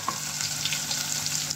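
Ginger, chili and garlic paste fries in hot oil for an egg curry, giving a steady, close sizzle that holds evenly from start to finish with a few faint stirring clicks.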